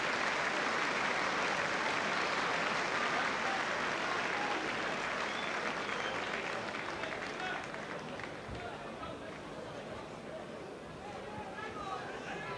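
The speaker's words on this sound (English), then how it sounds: "getting a good round of applause from the liners" Broad, steady applause and crowd noise from rugby league spectators at Leeds versus Oldham as an injured player is carried off, a dense continuous wash that eases slightly toward the end.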